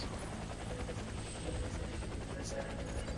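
A helicopter in the Warface video game drones with a continuous rotor and engine roar, steady and fairly close, holding level for the full few seconds.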